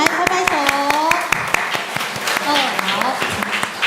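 A church congregation claps hands at a Christmas praise service, sharp irregular claps close by, mixed with a voice talking over them throughout.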